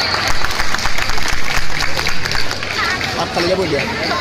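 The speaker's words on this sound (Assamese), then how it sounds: "প্ৰগ্ৰেমৰ আৰম্ভণিতে আৰু এবাৰ জোৰকৈ হাত চাপৰি বজাই দিয়ক" An audience at the Jhankar Media Award 2024 ceremony claps loudly and continuously for a few seconds, a dense wash of applause mixed with crowd voices and chatter.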